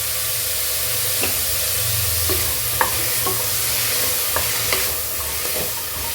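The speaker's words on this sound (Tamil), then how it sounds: "இப்போது நல்லா நம்ம பரங்கிக்காய் போட்டு நல்லா வதக்கிட்டோம்" Yellow pumpkin pieces sautéing in a pan with rock salt for a pumpkin kootu, a continuous close sizzle and hiss with occasional light stirring clinks and taps, no talking.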